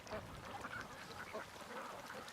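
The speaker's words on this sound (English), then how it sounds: "And there are so many cute ducks" Many ducks quacking together in a crowded flock kept for breeding, a continuous overlapping chatter of calls at moderate distance with no talk over it.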